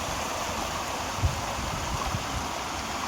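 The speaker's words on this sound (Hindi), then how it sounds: "ये लकड़ी का बना हुआ है और इसके अंदर से पानी जा रहा है यहाँ नीचे" Water rushing steadily through a wooden gharat watermill in the hills, a continuous broadband wash with a few small splashes, close and even throughout.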